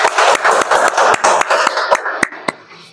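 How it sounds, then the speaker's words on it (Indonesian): A classroom group claps for a presentation, a burst of brisk applause that quickly thins into a few scattered, sharp claps before fading out. "kita kasih aplaus untuk kelompok 1"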